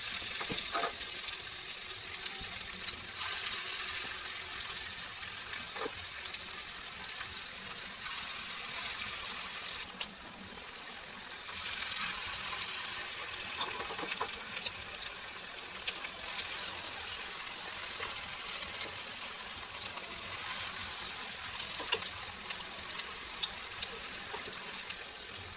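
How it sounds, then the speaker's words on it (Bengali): Marinated chicken pakoras frying in hot oil over a low gas flame, a steady crackling hiss that rises in bursts as pieces are added and stirred, continuous and close with no talk. "তো চলো এবার পকোড়াগুলো আস্তে আস্তে ভাজতে শুরু করি।"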